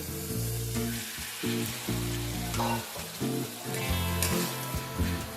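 Tomatoes salted and frying in a pan, with a little water added, sizzle steadily and close. A strong, low tonal hum runs underneath in uneven blocks.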